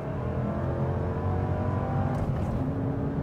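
Ford Mustang GT engine accelerating on an open road in Texas, heard from inside the car as a steady, loud low drone with a rising engine tone and road noise.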